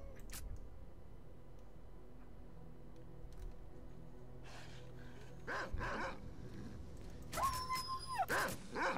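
Dogs barking in the video game S.T.A.L.K.E.R: Call of Pripyat, short sharp barks breaking out over quiet game ambience toward the end, louder and more frequent in the final seconds.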